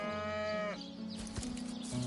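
A cow lowing inside the fantasy role-playing game Divinity Original Sin, one drawn-out moo that ends abruptly, followed by game ambience and a soft scuffle, with no talk.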